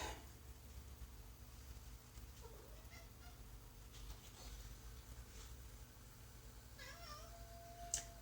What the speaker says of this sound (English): Lucky, that's the other cat